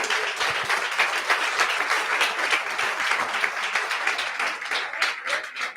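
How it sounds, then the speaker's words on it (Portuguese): Sustained applause from a church congregation during a sermon, dense steady clapping filling the room at an even level, with no voices standing out. "Aplauda Jesus"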